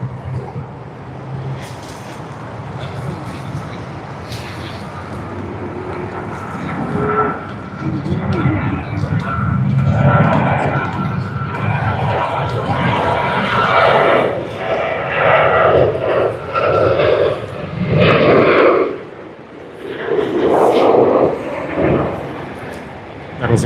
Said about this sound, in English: the takeoff roll.